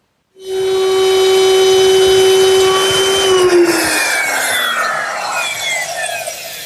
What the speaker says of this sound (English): I've just made a V-groove along the edge of that front stile. And to make it, I use my router, which is equipped with a V-grooving bit